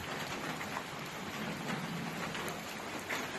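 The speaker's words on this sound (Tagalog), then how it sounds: "Maulan ngayon." Steady rain falls on a farm, a dense close hiss of drops that holds even and unbroken throughout with no voices.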